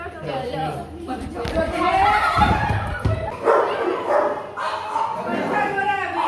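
A bulldog barks a few times amid lively crowd chatter outdoors on a trip to Udaipur, the yaps fairly close and partly masked by the talking.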